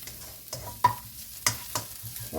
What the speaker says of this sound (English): See how it's starting to really sizzle?